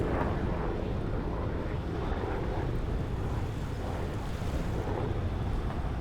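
Steady wind and ocean surf roar at the Praia Brava race course in Brazil during a hydrofoil race, a continuous broadband rush with no pauses and no voices.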